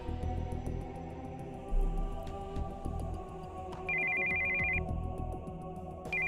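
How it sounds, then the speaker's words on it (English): A cell phone's incoming-call ringtone in the visual novel game Steins;Gate 0, a repeating electronic ring that plays steadily over low background music, with a sustained tone joining partway through. "we heard the sound of an incoming call on our cell phone"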